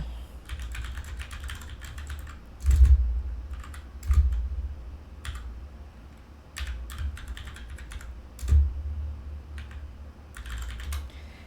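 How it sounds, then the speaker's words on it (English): Typing on a computer keyboard into a chat window, a steady patter of close key clicks with a few heavier thumps, probably the space or enter key, and no talking. "It still doesn't want to let me paste into the chat, so I have to actually type it."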